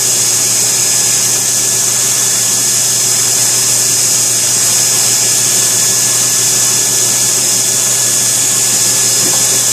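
A belt grinder with a 120-grit ceramic belt grinds a knife blade in a continuous loud, even whir and rasp that holds steady without pause.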